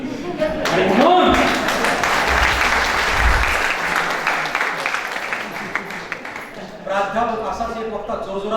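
Audience applause at the end of a lecture in an academy lecture series, building quickly into sustained clapping that gradually thins out, with a voice speaking over the start and again near the end.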